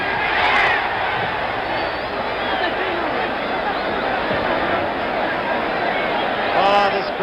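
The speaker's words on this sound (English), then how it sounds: "Crowd roars again as Young continues, unafraid, unmarked for that matter" A loud, sustained boxing crowd roars through George Foreman vs Jimmy Young in 1977, a dense steady wall of cheering that swells at the start and again near the end, with shouting voices mixed in.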